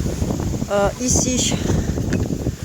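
Strong wind during a storm rushes and buffets the microphone with steady roaring noise while a person speaks briefly over it.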